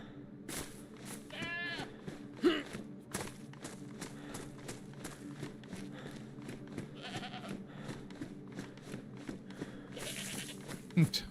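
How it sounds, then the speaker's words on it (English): A sheep bleats a few times in DayZ, a short wavering call standing out over a steady hum of game ambience and scattered clicks and footsteps. "Oh, there's a sheep out here."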